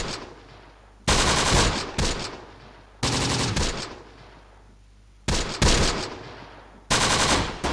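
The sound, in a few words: machine gun fire in Close Combat: The Bloody First video game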